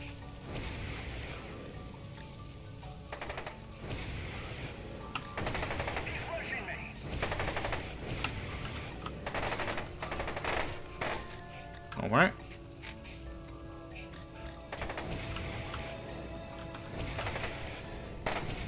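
Automatic gunfire from a weapon in the video game FEAR 2, rattling in repeated bursts across the stretch with one sharper louder shot near the middle, mixed with game effects and occasional voices.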